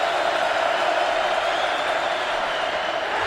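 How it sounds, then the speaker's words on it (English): A football stadium crowd at a Texas vs. Iowa State college game builds into a steady, dense roar on a third-down play, a continuous wall of distant voices and cheering with no breaks. "Crowd getting into it."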